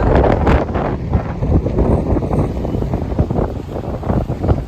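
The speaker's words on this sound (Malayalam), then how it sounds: "ഇപ്പം നല്ല മഴ, നല്ല തണുപ്പ്, നല്ല കാറ്റ്." Strong wind buffeting the microphone in heavy, rumbling gusts, loud and close, with no one speaking, on a hilltop park in Azerbaijan in cold, rainy weather.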